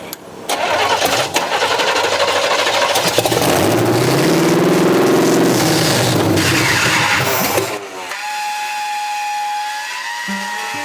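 A scrapyard Chevrolet squarebody truck engine cranks and catches, revving loud and rough with a high idle before settling to a steadier, lower running note near the end.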